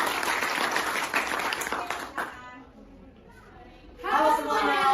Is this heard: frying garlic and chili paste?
no